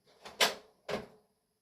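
A wooden office drawer is handled in two short bursts, a scrape and knock followed by a second slide and bump, close by with no talk.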